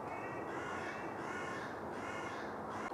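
Crows cawing loudly and repeatedly outdoors, harsh calls overlapping in a steady noisy chorus close by, with no talk over them.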